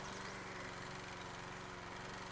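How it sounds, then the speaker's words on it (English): Low, continuous engine hum of a lawn mower cutting grass in House Flipper, faint but constant with a pulsing chug and no voices over it. "I hate mowing through the trees because I can't see what I'm doing."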